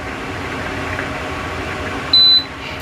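A Camplux dual induction cooktop in an RV gives a single short, clear electronic beep near the end, over a steady hiss of fan or background noise.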